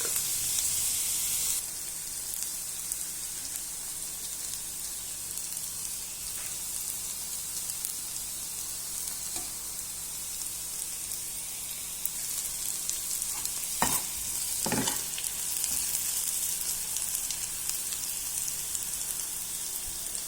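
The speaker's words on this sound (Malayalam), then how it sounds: "വഴറ്റുക." Steady sizzling of food sautéed in a frying pan for a home lunch, with a few scraping stirs of a spoon against the pan, close and continuous, no talk heard.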